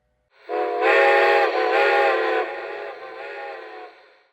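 A Lionel Strasburg No. 90 steam engine model sounds its ghost whistle: one loud, steady, multi-toned blast of about three and a half seconds, close by and alone.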